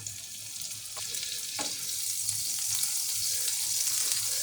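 Food sizzles and crackles steadily in hot sunflower oil and butter, a constant frying hiss that grows slightly louder, with a couple of light utensil clinks.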